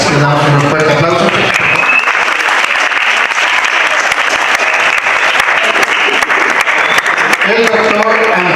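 Loud, dense applause from a conference audience at an economics lecture, sustained and even for most of the stretch, with speech at the start and end.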